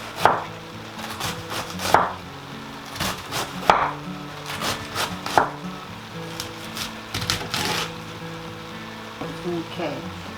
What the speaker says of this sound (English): I go ahead and kind of chop all of those slices in half